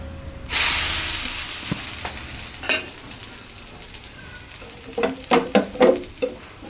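A thick chickpea protein dosa fries on a hot pan with a light drizzle of oil: a steady close sizzle, a sharp burst of hiss early on, then scattered clicks and spatters that build into louder pops near the end.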